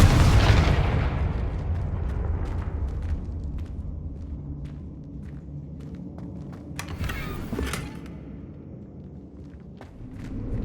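A Confringo spell blast in Hogwarts Legacy, a loud booming explosion that rolls off into a long rumbling decay, followed by scattered crackles and debris-like clatter in a quieter game soundscape.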